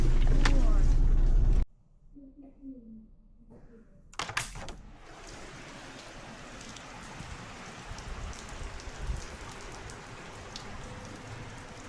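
Rain falls steadily outside during a storm, with a little hail mixed in; the downpour is a continuous, moderately loud wash that follows a brief loud burst, with a few sharper taps throughout.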